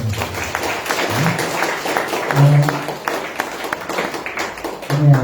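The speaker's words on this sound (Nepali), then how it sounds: "हुन्छ, ताली बजाउँ।" A church congregation at a Saturday Lord's Supper service breaks into applause, clapping mixed with murmuring voices and a few louder bursts, moderately close.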